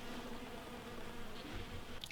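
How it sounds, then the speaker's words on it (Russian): Honey bees buzz faintly around hives on a warm day as young bees make orientation flights, a soft steady drone with an occasional bee passing nearer. "Здесь, скорее всего, идет облет молодых пчелок."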